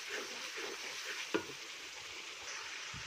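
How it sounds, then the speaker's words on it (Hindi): Tempering spices roast quietly in a pan for aloo moongray, a faint steady sizzle with one sharp spoon scrape against the pan partway through. "हम इसकी तकरीबन तड़के की 5 से 7 मिनट के लिए भुनाई कर लेंगे अच्छी तरह"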